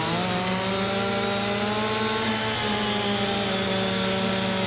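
A steel chainsaw in Farming Simulator 25 drones steadily as it cuts through trees, a loud, continuous motor whine with even harmonics that holds without a break.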